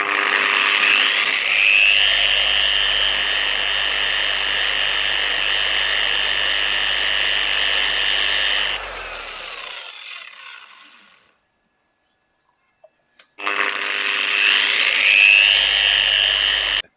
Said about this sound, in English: The yellow pad didn't want to hang on to the polisher anymore, so I grabbed one of the purple ones I used for the body.